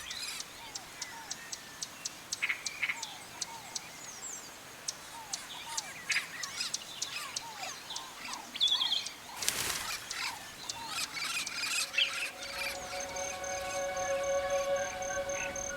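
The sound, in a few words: blue-fronted parrots calling in forest by stream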